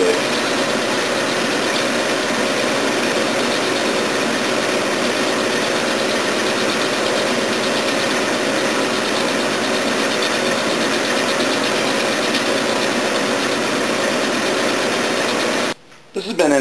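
A lathe machines an engine part for an FL 250 long-rod build, giving a loud, steady, continuous mechanical whir and hum that holds throughout and cuts out briefly near the end.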